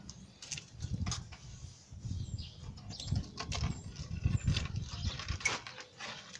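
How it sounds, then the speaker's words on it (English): Brake caliper piston on a 2007 Ford Fusion with a stuck caliper being pressed back during a front brake job: a close series of irregular creaking, scraping mechanical bursts over low rumbling, with no talk. "I'm going to go ahead and press that caliper all the way back."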